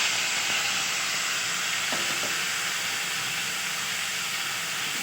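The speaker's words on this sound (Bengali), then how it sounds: "তেলটা গরম হয়ে গেছে, এবার মাছগুলোকে ঢেলে দেবো।" Fish poured into a little hot oil in a pan for a steamed fish dish, producing a loud, steady sizzling hiss that fills the whole stretch with a few faint clinks early on.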